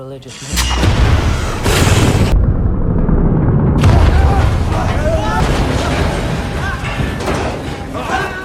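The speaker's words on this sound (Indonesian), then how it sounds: "sampailah terjadi ledakan yang sangat besar di ruangan torpedo" A large explosion in a submarine torpedo room: a loud booming blast erupts and rumbles on, with a brief sudden cutoff of the high end before the roaring, crackling aftermath continues at full strength.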